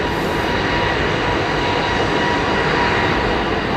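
An aircraft landing at London Heathrow Airport gives a steady broad jet roar, loud and continuous throughout without clear changes.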